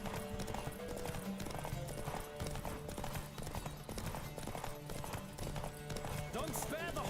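Rhythmic hoofbeats of a horse galloping in The Witcher video game, steady and continuous beneath game music and voices, with a brief whinny near the end.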